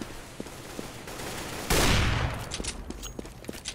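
Gunfire in the video game CS:GO, a burst of rapid automatic shots sprayed at once with a sharp loud onset, followed by scattered fainter clicks and thuds.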